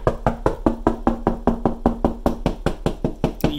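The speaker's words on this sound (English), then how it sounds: "some people use the knock method" A rapid, steady series of hollow knocks on drywall to find a stud, about four per second, close and fairly loud, with a slight change in tone partway through.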